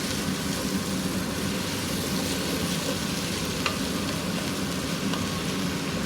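Beef, vegetables and juices are stirred together in a pot for stew, giving a steady, soft sizzle and bubbling hiss throughout with a faint scrape or two of the spoon and no voices.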